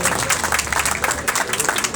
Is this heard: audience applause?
yes